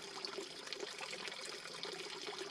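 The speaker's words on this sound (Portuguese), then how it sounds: "vou colocar um pouquinho de água aqui dentro da caixa d'água" Water is poured into a household water tank being set up for raising fish, giving a quiet, continuous trickling and splashing stream with small bubbly accents and no talk.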